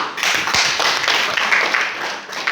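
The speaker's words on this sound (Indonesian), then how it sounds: "Ya, kita tepuk tangan." An audience claps their hands in applause at a classroom or group gathering, a steady, dense patter of many hands lasting the whole stretch, fairly loud and close.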